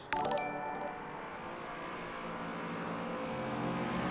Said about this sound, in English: this one has got a lovely, lovely sound from the engine as well